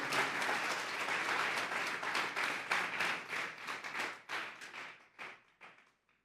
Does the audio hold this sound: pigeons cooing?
no